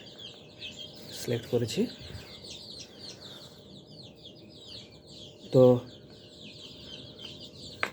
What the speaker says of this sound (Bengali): এখন এটা মুরগিকে দেওয়া হবে।